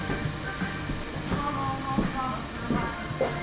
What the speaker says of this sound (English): Put the lid on, steam them